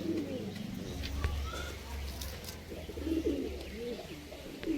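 Pigeons coo repeatedly at close range in a loft of Madrasi pigeons for sale, soft throaty rolling calls rising over a low background hum.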